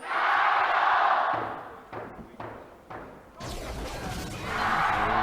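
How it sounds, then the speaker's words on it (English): A large crowd at a 2018 LPL League of Legends match, Team WE vs. Snake Esports, roars, chants and cheers loudly, with a few heavy drum thumps in the middle before the cheering swells again. "I know the crowd is chanting and cheering. You can even hear the drums in the background."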